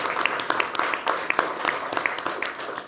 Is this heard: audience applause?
yes